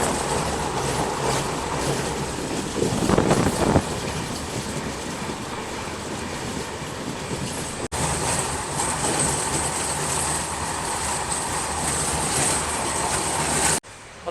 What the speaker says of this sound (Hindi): लगातार पूरा थार डेजर्ट में ही अपनी ट्रेन चल रही है